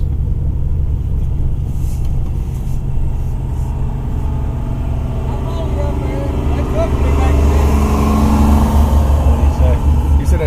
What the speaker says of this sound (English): Show you guys some off-roading now.